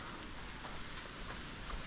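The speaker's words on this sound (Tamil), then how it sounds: "மழை பெஞ்சிக்கிட்டே இருக்குது." Steady rain falls at the misty Rajathottam view point near Valparai, a soft, even hiss of drops with no breaks, fairly faint and unaccompanied by voices.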